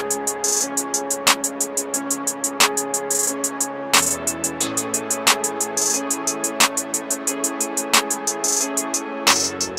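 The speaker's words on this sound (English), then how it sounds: "So together with the melody, the hi-hat, the snare, and the clap, sounds like this." A hard Detroit-style hip-hop beat made in FL Studio, with a looping melody under rapid ticking hi-hats and snare and clap hits landing on a steady backbeat, punchy and close with no voices.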